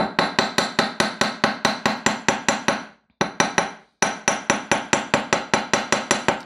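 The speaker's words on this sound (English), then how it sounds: "I'm going to hammer it now. I'm going to use large face hammer" Large face hammer striking wire on a hard surface while flattening a wire rose, a steady fast run of sharp metallic taps with one brief pause, close and loud.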